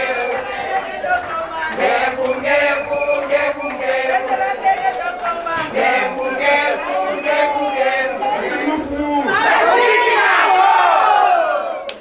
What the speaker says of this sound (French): Merci de l'accueillir avec des applaudissements également.